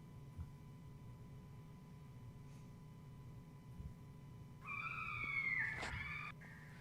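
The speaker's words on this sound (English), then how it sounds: "this is the sound of the Fisher cats in the woods behind my house." Fisher cats in the woods behind a house let out one harsh, wavering, descending scream near the end, rising out of a quiet, hissy night background.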